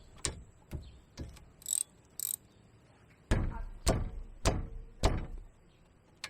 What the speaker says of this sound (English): Place on and start cranking away.